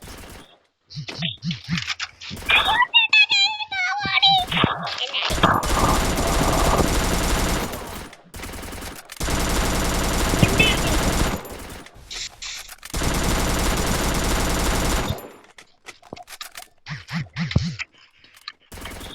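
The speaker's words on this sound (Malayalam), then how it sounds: "ഇങ്ങനെ കാലിന് താഴെ നമുക്ക് വെടിവെക്കാം, മുട്ടിന് താഴെ വെടിവെക്കാം." Gunfire in the mobile shooter Free Fire, several long bursts of rapid automatic shots broken by short pauses, with brief game effects and tones between them.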